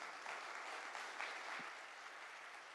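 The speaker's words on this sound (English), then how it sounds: "Ladies and gentlemen, round of applause." Audience applause for speakers at a family office panel talk, a faint, even wash of many hands clapping steadily from a distance.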